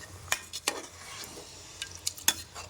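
A spoon stirs sambar in a cooking pot, giving a few sharp metallic clinks and scrapes spaced irregularly over a quiet background, close by, with no speech.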